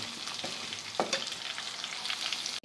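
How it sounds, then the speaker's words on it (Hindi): Potatoes fry in a pan over medium-low flame, a continuous sizzle broken by a few scraping stirs, close and moderately loud, with no talking. "दो तीन मिनट हम आलू को फ्राई करेंगे"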